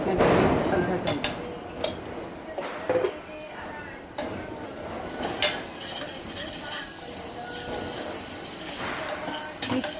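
Ginger-garlic paste sizzling in hot oil for a mung bean dish, stirred with a spoon that scrapes and clinks against the pan over a steady hiss.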